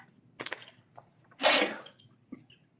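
A single loud, sharp sneeze bursts out about halfway through, set in the quiet room of a school board annual meeting, with faint shuffling and small noises before and after.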